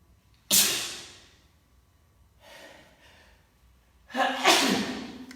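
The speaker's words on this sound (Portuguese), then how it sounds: "eu vou espirrar, viu, gente?" A person sneezes during a live broadcast: a sharp loud burst, a softer breathy sound, then another forceful sneeze-like blast, close to the microphone.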